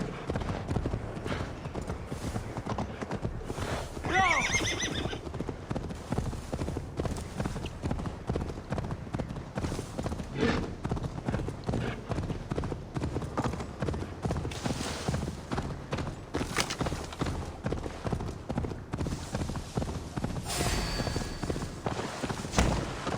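Horse hooves clip-clop steadily in Assassin's Creed Valhalla, a continuous rhythmic trot running the whole time with an occasional whinny and faint game ambience.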